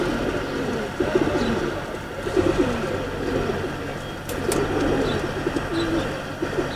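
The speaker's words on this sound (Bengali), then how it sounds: "আচ্ছা তো আরও কিছু কবুতর আছে আমরা সেইগুলো দেখি।" Racing pigeons cooing in a loft, repeated soft throaty coos in an irregular rhythm at close range, with faint background noise and no talk.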